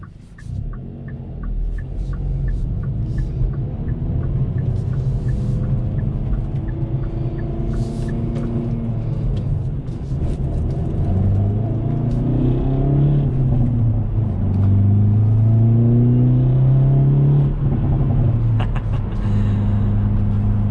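A 2021 Hyundai Veloster N with a facelift drives at night, its engine a steady close rumble rising and falling in pitch as it accelerates through the gears, with a low drone throughout.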